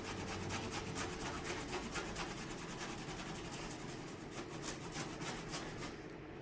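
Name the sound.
grating ginger root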